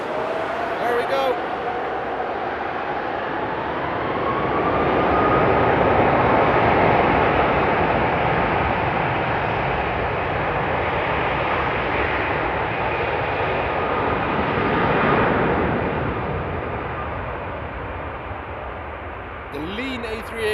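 A four-engined Airbus A340-600 passes at Frankfurt Airport on a frosty night. The jet roar builds to a broad peak, holds, and fades, with a faint rising whine at the start and a brief voice near the end.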